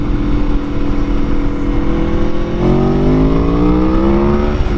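An Aprilia Tuono motorcycle engine revs up, its pitch climbing steadily in rising harmonic sweeps, loud and close, with no voices.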